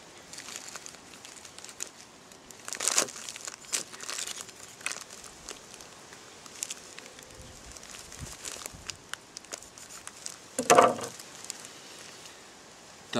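Someone unpacks a bag of Kilimanjaro coffee: soft, close crinkling of packaging with a few sharper rustling bursts, including a louder crackle near the end, all fairly quiet.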